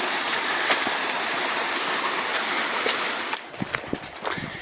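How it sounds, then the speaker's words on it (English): A creek rushes along near the E&N Railway line at mile 19.1 in the Alberni Summit area, a continuous broadband water hiss that fades somewhat toward the end, with a few soft footstep-like knocks on top. "Sound of a creek about mile"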